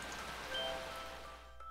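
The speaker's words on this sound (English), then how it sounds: "Hey, Nagaki, don't you think the rain's getting a little heavier?" Soft, steady rain falls in the Hatoful Boyfriend video game, a faint even hiss of patter that thins out toward the end.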